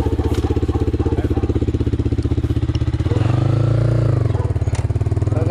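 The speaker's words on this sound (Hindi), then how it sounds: "बाबू भैया इज राइडिंग माय बाइक" Motorcycle with full fairing being ridden in Dehradun, India, its engine running steadily with a pulsing idle-like throb and rising to a louder rev in the middle before settling back, close to the listener.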